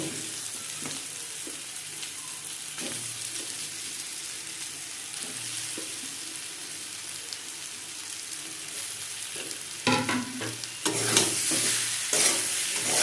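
Mashed potato is stir-fried in a pan for Bengali egg chops, giving a soft frying hiss with intermittent scraping and stirring strokes, then a louder burst of sizzle and clatter near the end, close by and unaccompanied by voices.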